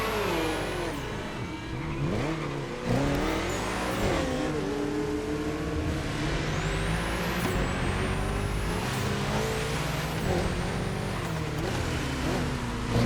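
An Apollo Sport hypercar driven in The Crew Motorfest racing game, its engine revving and shifting through rising, falling pitch sweeps with whining tones, moderately loud and continuous without talk.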